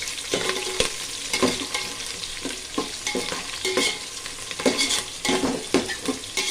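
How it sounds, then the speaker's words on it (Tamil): Onion, green chili and garlic fry in a pan for rava kichadi. Loud, continuous sizzling runs under rhythmic spatula stirring and occasional metal clinks against the pan. "நல்லா கொஞ்சம் பொரியலம்மா அந்த வெங்காயமும் இது பச்சை மிளகாவும் பூண்டும் கொஞ்சம் நல்லா செவக்கட்டும்"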